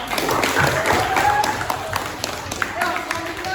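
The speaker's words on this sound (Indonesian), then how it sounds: "Kasih tepuk tangan untuk kelompok." A classroom of students applauds a student group with continuous dense clapping from many hands, close and fairly loud, with chatter mixed in.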